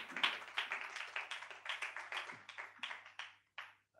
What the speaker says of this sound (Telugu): గట్టిగా చప్పట్లు కొట్టి ప్రభుని మహిమపడదాం.